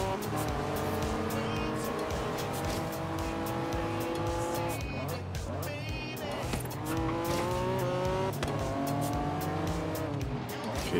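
A Ferrari F40 races in Forza Horizon 3, its engine revving loudly through rising and falling gear shifts with tire squeals, while someone talks over the game audio.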